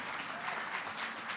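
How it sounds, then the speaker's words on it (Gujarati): Audience applause for festival participants at a Japan festival evening program, a steady, dense clapping throughout, with no voices heard. "જોરદાર તાળીઓ થઈ જાય અમારા પાર્ટિસિપન્ટ્સ માટે."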